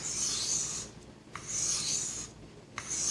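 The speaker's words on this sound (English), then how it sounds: "this knife is sharpening incredibly fast" A kitchen knife drawn in long strokes across a sharpening stone, three rhythmic rasping passes with brief pauses and light clicks between them, close and fairly quiet.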